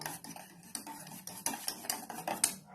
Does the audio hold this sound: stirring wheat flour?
yes